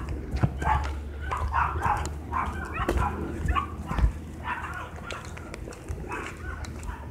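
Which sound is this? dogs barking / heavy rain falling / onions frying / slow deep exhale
dogs barking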